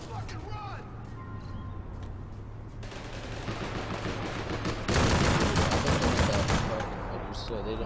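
A big gun fires in APB Reloaded, rapid automatic bursts growing heavier and louder midway, with vehicle rumble and a voice talking underneath.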